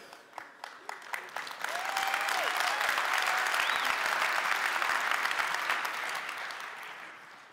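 Applause from a large conference audience at Atlassian Summit 2019. It builds from scattered claps into full, sustained clapping across a big hall, with a few whoops and voices mixed in.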